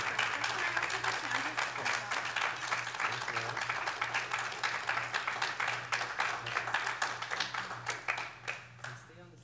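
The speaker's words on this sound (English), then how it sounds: "Another round of applause." A lecture audience at an Earth Day student sustainability awards event breaks into sustained applause, many hands clapping steadily for several seconds before thinning out and fading near the end, with a low hum beneath.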